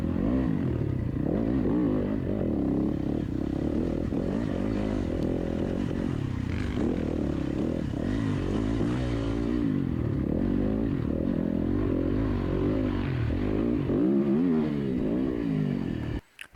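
A dirt bike engine roars and revs continuously along a wooded hare scramble trail, loud and close with shifting throttle, clattering over bumps and dips, then cutting out abruptly at the end.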